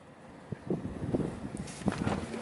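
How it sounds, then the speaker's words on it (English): Gusty wind buffets the microphone with rumbling, irregular bursts of noise. "Wow, really windy."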